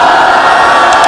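A large crowd at a religious gathering in Imamia Colony, Lahore, roars a slogan in unison, a loud, dense burst of massed voices filling the space.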